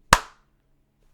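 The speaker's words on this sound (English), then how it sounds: "mind if we do a clap quick?" A single sharp hand clap, close and loud, made to sync recording at the start of a pastor interview, with a quick decay into near silence.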